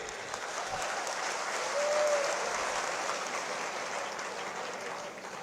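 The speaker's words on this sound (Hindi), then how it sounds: "तो अब तो ताली बजाइए" Audience applause at a statue unveiling ceremony, a steady wash of clapping from a large crowd that holds evenly for several seconds, heard from a distance.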